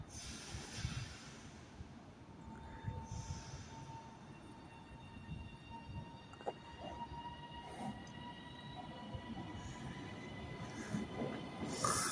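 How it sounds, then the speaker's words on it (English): TransPennine Express Class 397 electric train arriving at Carlisle station on the West Coast Main Line: a faint, steady rolling rumble with a thin high whine that grows slightly louder, heard from the platform. "Arriving into Carlisle now is a Trans-Pennine Express 397 service to Glasgow Central from Manchester Airport."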